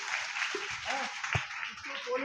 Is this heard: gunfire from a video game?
no